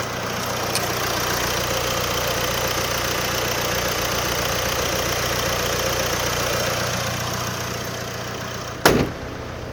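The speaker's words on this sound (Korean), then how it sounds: "생각보다 규칙적인 엔진음 들려주고 있는데요" An imported SUV engine idling steadily and evenly for several seconds, close and fairly loud with the hood open, ending with a brief sharp knock.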